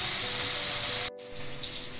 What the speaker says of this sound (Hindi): इन चीज़ों को ऐसे थोड़ा सा भून लें, साथ में लहसुन थोड़ी भून जानी चाहिए आपकी।